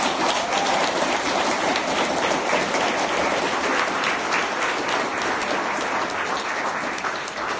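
Sustained, dense applause fills a celebration event for a photographer's project, with steady loud clapping from a crowd throughout and no speech over it.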